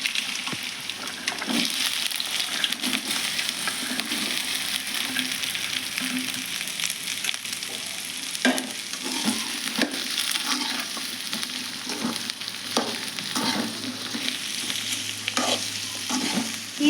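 Okra fries in a pan, a continuous close sizzle broken by repeated scraping stirs and clatters throughout, with no voices.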